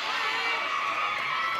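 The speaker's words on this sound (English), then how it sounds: "He got a smattering of applause." Crowd noise at a college softball game between UCLA and Washington, a steady wash of distant cheering and light applause from the stands with no clear talk.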